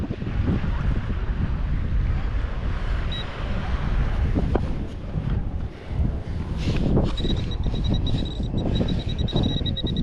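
Strong gusty wind buffets the microphone on a Tampa beach after a hurricane, a loud, constant roar with surf underneath and a few faint knocks.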